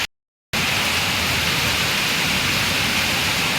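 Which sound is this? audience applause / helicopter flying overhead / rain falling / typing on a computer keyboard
rain falling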